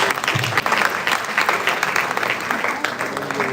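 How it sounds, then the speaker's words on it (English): Audience applause at a youth summit, steady dense clapping from a crowd lasting several seconds, with some voices mixed in underneath. "a round of applause."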